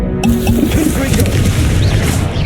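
Confringo blasting spell going off in the wizarding game Hogwarts Legacy, a loud booming burst with crackling energy and ringing magical tones, sustained and close.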